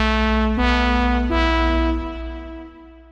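Dry Serum-preset lead synth with no effects, from a deep house production: a few plain sustained notes with a stepping melody and a deep low tone underneath, close and alone, fading at the end.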